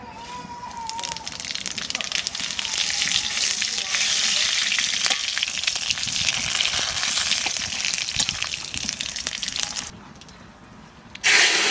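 Cumin seeds and bay leaves fry in hot oil, giving a loud, continuous crackling sizzle close up, with scraping stirs; the sizzle drops near the end before a sudden louder burst.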